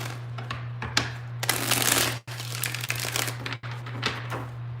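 Tarot cards are shuffled by hand in several quick riffling bursts, the longest lasting about a second, separated by short pauses and sharp taps, over a low constant electrical hum.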